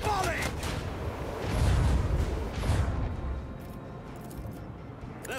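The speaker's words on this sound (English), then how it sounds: "Macro cannons! Volley!" Macro cannon volley in Warhammer 40000 Rogue Trader: a rumbling run of heavy booming blasts that swells and then fades into a quieter low roar, with a voice heard briefly at the start.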